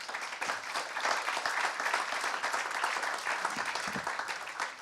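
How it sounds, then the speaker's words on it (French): An audience at a panel discussion applauds two speakers, a steady, moderately distant patter of many hands clapping throughout. "On peut les applaudir."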